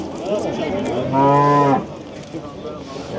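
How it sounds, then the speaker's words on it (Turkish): A cow at a livestock market in Hendek, Sakarya, lets out one loud, close, drawn-out moo amid steady market crowd noise and chatter. "Piyasanın en ucuz ineği."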